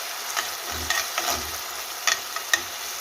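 Stuffed-pepper filling frying in a pan with tomato paste and onion: a close, soft sizzle broken by several scraping stirs and light utensil knocks against the pan.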